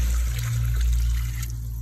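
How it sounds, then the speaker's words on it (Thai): Plain water pours into a pot of stir-fried mixed vegetables, a brief close trickle and splash over a steady low kitchen hum. "ก็เติมน้ำเปล่า"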